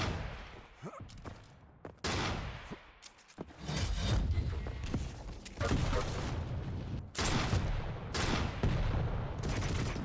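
Rocket fire and explosions in the shooter KeenCon come in repeated loud bursts, each a broad roaring blast lasting a second or more, separated by short quieter gaps with faint whooshes and clicks.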